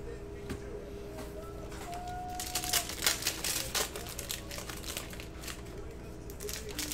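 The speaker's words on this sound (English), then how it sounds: "let's print that out" A printer runs off a shipping list at a basketball trading card break, its crinkly, mechanical paper-feed chatter building midway and continuing steadily over a busy room background.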